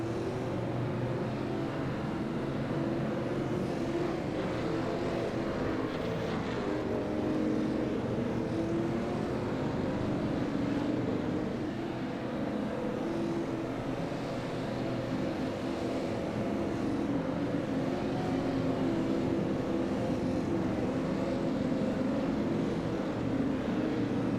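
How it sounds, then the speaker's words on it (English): Race cars circling the Oxford speedway, a steady, far-off engine drone that holds evenly throughout with no clear voices. "Car's getting ready to go double file right here."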